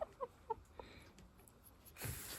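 Crested chickens give a few soft, short clucks close by, then a brief rustling burst near the end, all faint against a quiet background.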